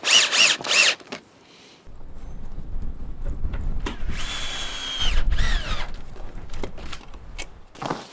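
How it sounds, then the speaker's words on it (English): A power drill drives a screw into a wooden batten on exterior cladding work, whirring loudly in a couple of close bursts, with clicks and handling noise between them. "rest this one on top and get a screw in."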